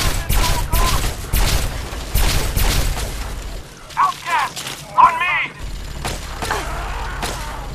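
Gunfire bursts in Fallout 3 with thumps and booms across the first few seconds, loud and close, mixed with a player's voice talking over the shots.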